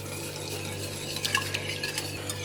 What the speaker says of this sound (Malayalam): ഇനി ഇതൊന്ന് നമുക്ക് മിക്സ് ചെയ്യാം.